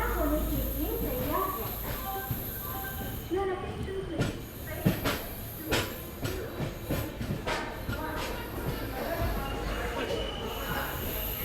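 The Amrit Bharat Express, train 17065 from Charlapalli to Shalimar, runs on its first trip, with a steady rolling rumble and a series of sharp rail clicks and knocks from the wheels, continuous throughout.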